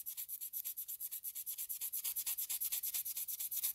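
Glass paper rubbed back and forth over a surface, a rapid, even rhythm of scratchy abrasive strokes, about seven per second, close up and alone with no talking.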